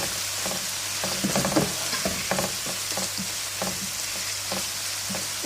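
Onion, garlic and ginger fry in a pan for a chicken kofta curry, giving a steady close sizzle broken by repeated scraping stirs, with no voices.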